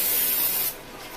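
Cooking oil spray into a pan: a steady hissing spray for most of a second, cutting off abruptly and leaving a faint hiss.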